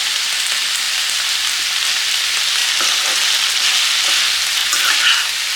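Ivy gourd stirred with salt and turmeric in a hot pan gives a loud, continuous dense sizzle, with faint scraping strokes from the stirring, close up and without speech.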